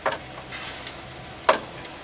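Cooking in a pan at a rustic log cabin deer hunting camp, with soft sizzling and stirring scrapes, a couple of brief clinks, and one sharper clatter midway, all at low level in the background with no talk.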